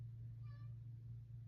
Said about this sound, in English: that's my cat on the door